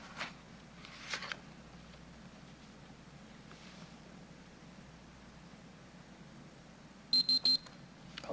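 Short burst of rapid electronic beeps from an alarm in a planning commission meeting room, about four quick pulses near the end after a long stretch of quiet room tone with faint rustling.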